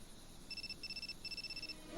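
Cell phone ringing in the PS2 game Shadow of Destiny: a faint, repeated electronic ring in three short bursts with brief gaps, playing over a low background hum.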